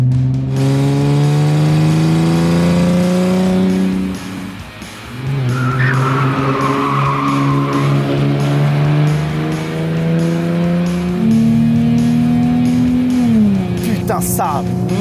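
Volkswagen Phaeton W12 with 420 hp pulling hard through several gears, loud rising engine notes broken by shifts, a tire-squeal-like whine midway, and a voice talking over parts of the run.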